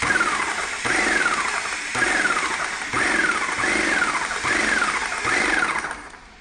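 A paint sprayer's motor runs while spraying paint into a bucket, cycling in a steady pulsing rhythm of about one surge per second, close and fairly loud, trailing off at the end.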